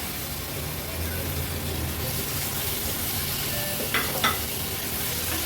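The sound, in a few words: cleaned squid added to frying masala on medium flame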